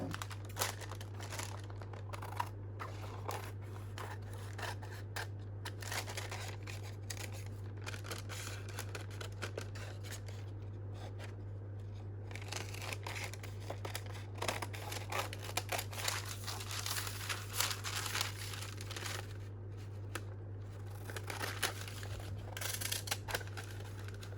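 Scissors snip and trim paper for a coffee-dyed junk journal document pocket, with crinkling handling sounds over a steady low hum, close and quiet, no talking.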